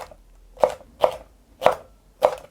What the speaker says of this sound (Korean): 너무 가늘지 않게 채로 잘라주세요